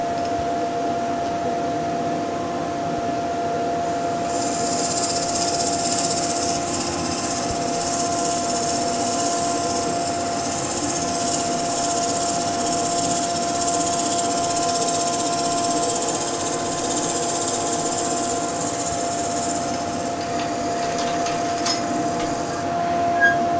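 A lathe drills into the inside of a turned wooden salt or pepper shaker, a steady mechanical hum with a higher whining drill tone from about four to twenty seconds, loud and continuous with no talk.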